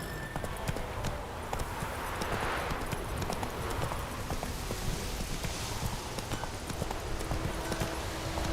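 Hooves of Geralt's horse Roach in The Witcher 3: Wild Hunt clop steadily across the ground at a walking pace, close and fairly loud over faint background ambience, with no talking.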